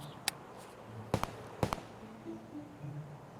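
Distant gunshots in Escape from Tarkov: three sharp cracks, a single one then a closer-spaced pair with short echoing tails, over quiet background.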